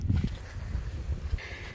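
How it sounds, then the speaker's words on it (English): Wind gusts on a blustery day outdoors near a swimming spot, a low rumbling buffet with rustling noise, fairly loud and close, with no voices. "Nice windy day."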